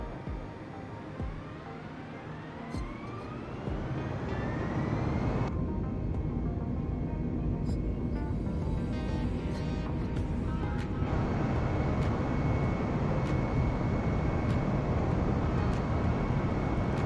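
United Airbus engines spool up for takeoff at Chicago O'Hare in Microsoft Flight Simulator 2020, a rising whine that swells into a loud, steady jet roar with no talking.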